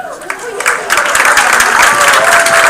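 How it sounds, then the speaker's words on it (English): Audience at a township council meeting breaks into cheering and applause, a dense burst of clapping that swells and holds steady, with voices mixed into the crowd noise. "Or are we just cheering Highland?"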